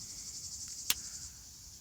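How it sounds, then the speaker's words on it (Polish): Small insects, cicadas among them, chirp steadily through a night in the Pyrenees on the GR 11 trail, a continuous high faint buzz with one sharp brief click near the middle. "A tak poza tym to cykady i inne takie malutkie owadziki"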